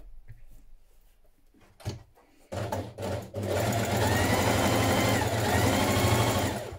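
A sewing machine stitches the underarm seam of a sweater, first with a few short starts and bumps, then with a steady, loud whir that runs to the end.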